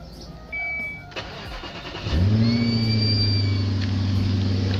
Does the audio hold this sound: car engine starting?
yes